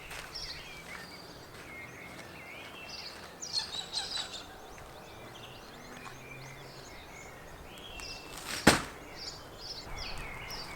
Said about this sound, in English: Oh, that bird sounds angry.